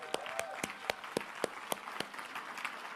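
An audience applauding at a personal-development seminar, heard faintly with a steady series of distinct, evenly spaced claps standing out over soft crowd noise.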